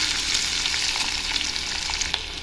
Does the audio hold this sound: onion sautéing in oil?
yes